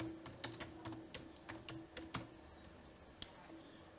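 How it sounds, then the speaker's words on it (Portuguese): Someone types a user name on a computer keyboard, producing a quiet, irregular run of close key clicks over a low steady hum, with no voice. "Você vai digitar aqui o nome do usuário."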